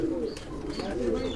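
Sialkot-breed pigeons coo softly and steadily at close range, with a voice talking over them.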